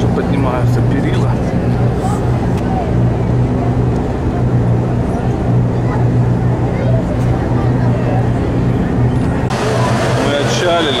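A boat's engine room hums loudly and steadily on a tourist boat off Zakynthos, Greece, with a constant low drone and people talking over it.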